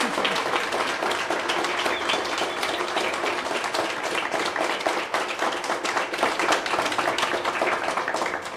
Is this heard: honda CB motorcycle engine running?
no